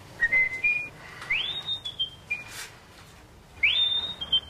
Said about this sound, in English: Have you ever noticed his nose kind of like whistles?